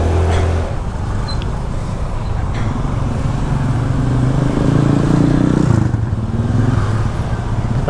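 Jammed traffic of cars and motorbikes in Kerobokan, Bali, with idling and creeping engines, a motorbike revving up close midway, and general roadway rumble and clatter, steady and fairly loud throughout.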